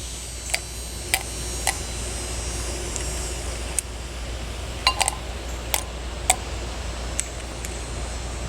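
Small rocks being dropped one at a time into a pot, giving about a dozen sharp, separate clinks spaced irregularly over a low steady background hum, fairly close and otherwise quiet.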